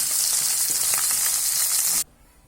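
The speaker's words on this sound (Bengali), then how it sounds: "এই টমেটা মাছ এটা ভেজে নিচ্ছি" Tomato fish and pabda fish frying in hot oil in a home kitchen for a curry, a loud steady hiss and sizzle that cuts off abruptly near the end, leaving faint quiet.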